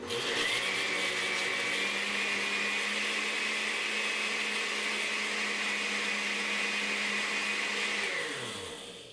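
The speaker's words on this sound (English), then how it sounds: "Make sure you got your cap on and just hit the blender." A blender mixing a lime Jello dessert roars at steady speed for several seconds with a constant motor whine, then winds down at the end.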